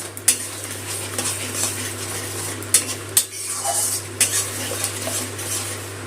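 A spice mixture with sour yogurt is sautéed in a pan as a spoon scrapes and clinks against the metal in several sharp knocks, over a low, steady sizzle.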